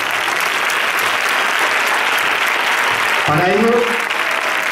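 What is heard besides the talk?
audience applause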